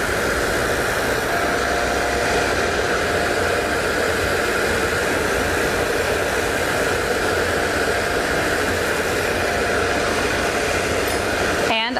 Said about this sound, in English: So once again, I'm going to turn on my filter. Turn on my machine. Load up my buff.